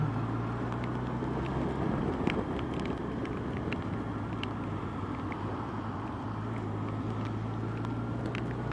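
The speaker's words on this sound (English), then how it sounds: "Wow, look at the traffic." Road traffic on a ring road in the rain, heard from a 2006 Yamaha FJR1300A motorcycle: a steady broadband roar of cars and engines with wind noise, continuous and fairly even throughout.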